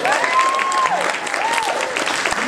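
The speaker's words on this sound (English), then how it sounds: "So let's give Grace a big round of applause" Applause from a convention audience at an anime game show event, sustained dense clapping filling the room with a few whistles on top.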